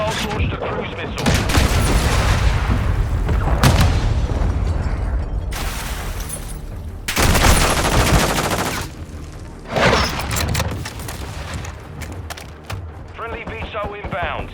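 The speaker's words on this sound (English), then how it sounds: "Hostiles launched a cruise missile." Call of Duty Modern Warfare gameplay with dense, loud gunfire and heavy explosive booms from a cruise missile strike, rolling in repeated waves with brief lulls and radio callouts mixed in.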